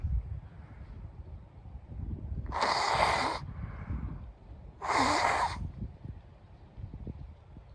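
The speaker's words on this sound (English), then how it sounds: "this is going to be me blowing my nose right here" Two forceful nose blows a couple of seconds apart, each a short breathy honk, close to the mic over low rustling background noise.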